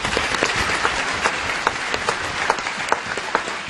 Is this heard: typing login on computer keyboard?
no